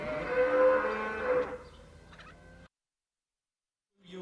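A bullock moos loudly in a long, drawn-out call among ewes and hens on a farm, fading into a brief silence before another faint animal sound.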